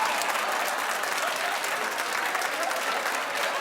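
Talk show studio audience claps in a steady, dense burst, loud and close, lasting the whole moment without any speech over it.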